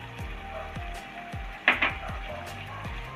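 Peanut and sesame paste stirred into a pan of capsicum curry, with soft sizzling under repeated knocks of a spoon against the pan and a brief louder scrape in the middle.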